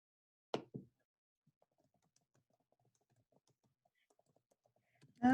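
Keys on a computer keyboard are tapped in a quiet, scattered run of soft clicks, framed by a couple of louder knocks at the start and a sharper sound at the very end.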